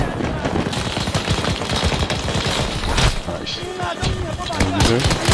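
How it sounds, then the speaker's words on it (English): Sentry gun firing in Battlefield 2042, a rapid continuous burst of automatic gunfire sustained for the whole stretch, loud and close amid other battle noise, with a voice talking over it. "there's a sentry gun right next to me"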